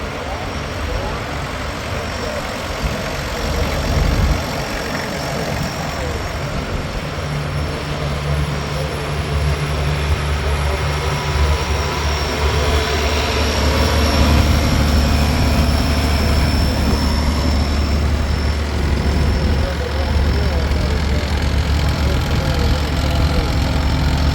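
Vintage John Deere tractors, models 2130 and 2010, run at a machinery club rally with a steady low engine rumble and idling throb throughout, the drone growing slightly louder midway.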